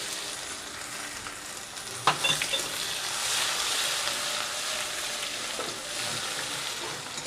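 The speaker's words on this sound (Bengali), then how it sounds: "পেঁয়াজ আর জিরেটা ভাজা হবে।" Chopped onion and cumin seeds sizzle steadily in hot oil with bay leaf, for a Bengali prawn and taro curry; a brief clatter of stirring sounds near the start, then a continuous close, fairly loud fry with no voices.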